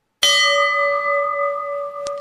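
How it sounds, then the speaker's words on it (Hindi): A single bell strike rings out clearly and close, its bright tone sustaining and slowly fading over two seconds, with a faint tick near the end. "लो बज गई घंटी, तुम्हें सुनाई दी?"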